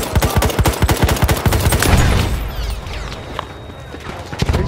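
A machine gun in Battlefield 1 fires a fast, loud, close burst for about two seconds, followed by quieter scattered shots and battlefield noise.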